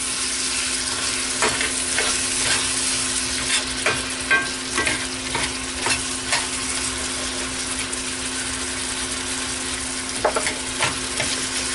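Chopped onion fries in hot grease as the base for a roux, giving a steady close sizzle broken by scattered scraping clicks of stirring, with no talk.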